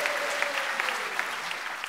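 Audience applause fills a political rally hall, a steady dense wash of clapping from a crowd that carries evenly across the whole stretch without easing off.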